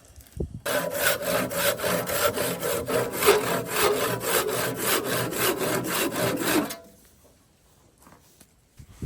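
A saw cuts back and forth through a wooden tool handle about 28 inches long, making rapid, even rasping strokes up close for about six seconds before it stops and goes quiet.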